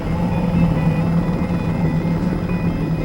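Coast Guard rescue helicopter racing back to Sitka, a steady, loud, close rotor and turbine drone with no voices.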